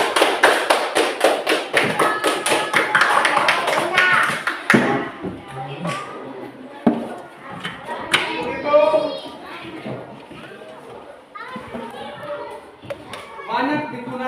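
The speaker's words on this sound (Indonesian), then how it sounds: "tepuk tangan sama dulu" Classroom clapping from students praising group discussions, a loud burst of rhythmic hand claps at the start that fades after a few seconds into children's chatter and scattered taps.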